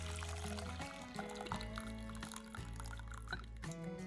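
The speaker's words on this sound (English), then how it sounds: "Now, carefully pour out the water." Water pours from a pot of boiled potatoes through a narrow gap under the lid, a steady rushing stream partly masked by loud background music.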